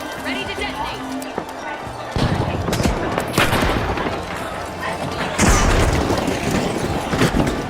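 Blasts and bursts of gunfire in the objective-heist game The Finals, with several heavy booms landing in sequence over ongoing combat noise, loud and close, while a voice talks over the action.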